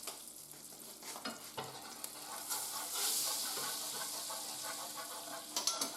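Flour being whisked into hot beef fat in a non-stick pan with a plastic whisk, a soft sizzle under brisk scraping strokes, quiet and close, building briefly in the middle.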